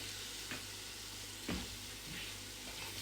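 Garlic sizzles in hot oil with cumin seeds in a pan, a steady, close hiss of frying with a couple of brief stirring scrapes.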